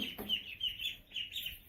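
Baby chicks kept in a vented trailer give a steady run of high, thin peeps, several overlapping chirps close by with short gaps, alone without talk.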